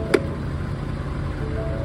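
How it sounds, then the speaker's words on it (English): A Ford F-350 pickup's diesel engine idles close by with a steady, low, rumbling hum and one sharp click near the start. "There you can hear it's diesel now."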